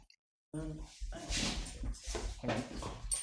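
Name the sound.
dog whimpering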